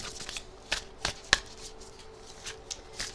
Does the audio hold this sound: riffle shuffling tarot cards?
yes